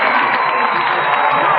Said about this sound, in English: The crowd's psyched